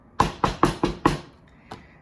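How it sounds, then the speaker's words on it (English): Five sharp knocks on a small yellow wooden door at a country house, evenly spaced and close, followed by a pause and one fainter knock. "He knocked on the pretty little yellow door."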